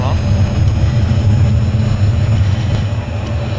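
Airplane engine drone in Battlefield 3, a steady loud low roar running continuously throughout with a faint voice talking over it.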